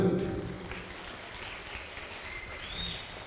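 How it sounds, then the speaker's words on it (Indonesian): Applause from an audience at a Halal Bi Halal charity gathering for orphans in Indonesia, a steady patter of clapping that swells briefly at the start, then continues evenly and moderately loud through the short stretch. "Tepuk tangan dulu."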